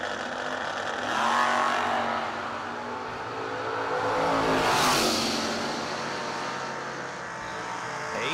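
A 1968 Chevelle and a Z28 Camaro roar down a drag strip, two loud swelling engine passes rising and fading in turn, with a sharp whooshing surge near the middle as the cars blast by.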